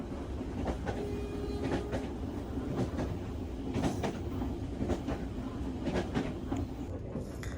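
Commuter train riding from Kedunggedeh station toward Depok, a steady loud rumble from inside the carriage with rhythmic clickety-clack of wheels over rail joints throughout.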